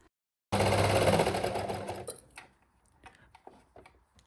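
A sewing machine runs in one loud, close, steady burst, stitching the gusset seam of a stretch-fabric boxer, then stops. Faint handling clicks and rustles follow.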